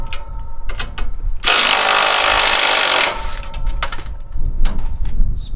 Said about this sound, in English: We just need to loosen the top two bolts and take the bottom ones out.